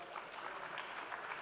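An audience at a leaders' forum panel session applauds the speakers, a continuous wash of clapping from a large crowd that stays even and somewhat distant for a brief moment.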